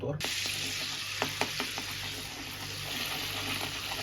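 Food sautés in a pan with a little salt and black pepper, giving a steady, close sizzle broken by a few clicks and scrapes of stirring.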